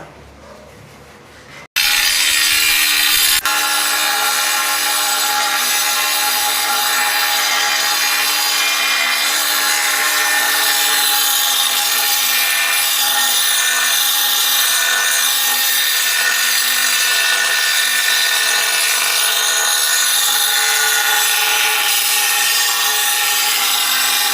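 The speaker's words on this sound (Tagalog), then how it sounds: "Nililiha na." Wood is sanded by hand with a loud, steady, continuous abrasive rasp that starts abruptly after a short quiet moment and keeps going without pause, up close and alone with no voices.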